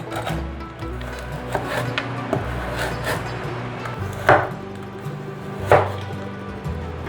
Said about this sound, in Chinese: 把削好皮的红萝卜切下来，把红萝卜切片